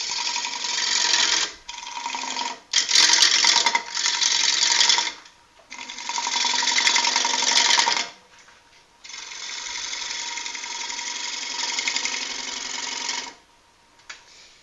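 A lathe turns a workpiece under a hand-held bevelled cutting tool, its steady whirring hum cutting in and out in several long bursts with short pauses between, ending in a quieter stretch.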